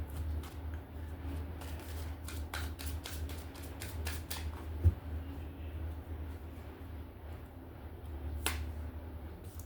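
Tarot cards being shuffled in a run of quick, crisp riffles and flicks over the first few seconds, close and fairly quiet over a low background hum, followed by a couple of isolated taps.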